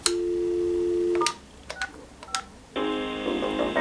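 An office desk phone being tested: a steady dial tone, then several short touch-tone key beeps and a rich ringback-style tone, close and clear with no talking.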